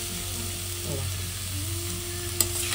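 Pumpkin pieces and onion fry in a pan, giving a close, steady sizzle over a low hum with a brief sharp clink of stirring near the end.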